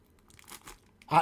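A foil blind bag being cut with scissors and torn open, with light crinkling rustles that build into a loud close crunching tear at the end.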